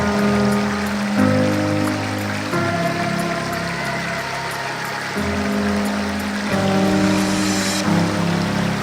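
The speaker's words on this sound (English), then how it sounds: "As you heard from Terry, we're here at Sherman Falls, hopefully to have frozen waterfall with the water and make good contrast." Water rushes steadily at Sherman Falls, a partly frozen waterfall, giving a continuous broadband roar that stays close and fairly loud throughout, with slight shifts in tone but no talk.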